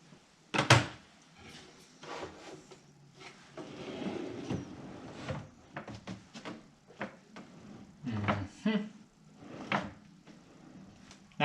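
A drawer holding a newly installed stove in a camper is pushed shut, with a series of knocks, scrapes and thumps of panels and hose shifting, close and moderately loud.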